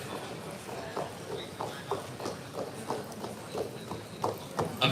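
A dappled Friesian mare walks with a steady clip-clop of hooves at a sale auction, each hoof strike landing in an even rhythm at moderate distance over a faint background murmur.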